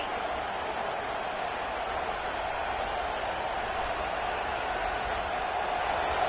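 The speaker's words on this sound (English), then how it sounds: "listen to this crowd coming through" Stadium crowd in an NCAA football video game gives off a steady, dense roar, a continuous wash of distant cheering with no breaks.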